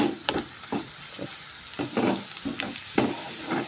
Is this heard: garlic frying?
yes